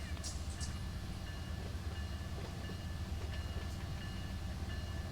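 A train engine in the Run 8 train simulator game moves along the Pittsburgh Line, giving a steady, close, low rumble with faint rail clicks and squeals throughout.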